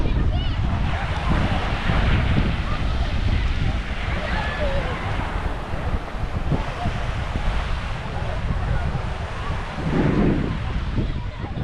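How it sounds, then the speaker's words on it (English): Strong wind on a beach on the French Mediterranean coast buffets the microphone in a constant, loud roar, with a low rumble and a faint wash of surf beneath it. "You might not be able to hear me, it's a little bit windy and breezy"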